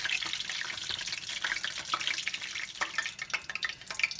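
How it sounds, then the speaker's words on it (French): Panzerotti, Italian savory fritters, frying in hot oil, giving a steady crackling sizzle with scattered bright pops throughout, close and moderately loud with no voices. "Voilà, c'est en train de frire."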